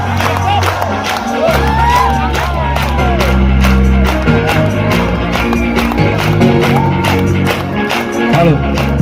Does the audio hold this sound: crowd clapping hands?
yes